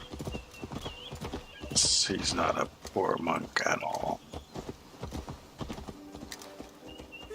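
A summoned horse's hooves clip-clop steadily in Assassin's Creed Valhalla, with a whinny partway through and someone talking over the hoofbeats.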